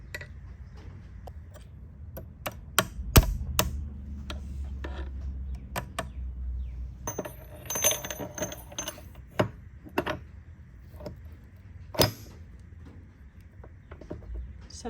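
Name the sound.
clip being fitted onto Corvette T56 transmission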